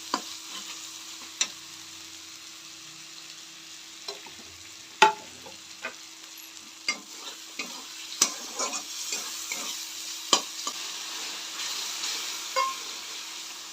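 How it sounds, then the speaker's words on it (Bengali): Chopped tomato and spice masala stir-fry in a pan for an egg and potato dish. A soft steady sizzle runs throughout, broken by sharp taps and scrapes of stirring, close and fairly quiet. "আর এবারে দিয়ে দেবো টমাটার কুচি এবারে এটাকে মশলাটাকে ভালো করে কষিয়ে নেবো"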